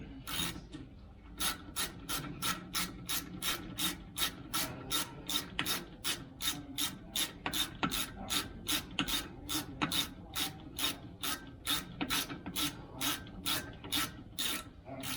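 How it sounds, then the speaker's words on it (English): A hand ratchet clicks steadily while tightening a brake caliper bolt on the rear brakes of a 2015 GMC Sierra Z71, giving a long run of quick, evenly spaced, close ratcheting clicks over low workshop noise. "Take your hand ratchet."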